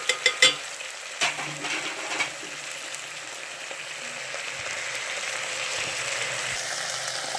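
Gravy masala for kaal gojju hits a hot pan with a few sharp clattering knocks at the start, then settles into a steady, close frying sizzle that runs on without talk.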